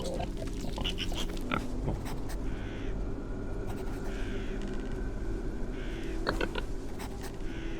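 Pigs in the Drova video game grunt and oink repeatedly over a constant low rumbling ambience, the calls close and fairly loud in scattered bursts.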